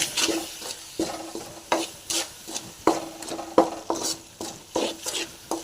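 Ground small onions stirred into hot frying oil in a pan, with a spoon scraping in a steady rhythm of roughly one stroke per second over a continuous sizzle. The sound is close and fairly loud, with no voices.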